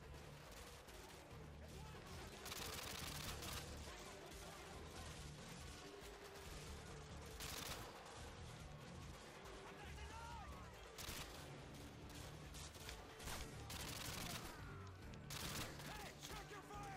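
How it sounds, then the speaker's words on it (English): Gunfire in the video game Modern Warfare 2, dense bursts of shots and fusillades repeating throughout at moderate loudness with a voice talking over the battle. "This is literally just, more gunfire"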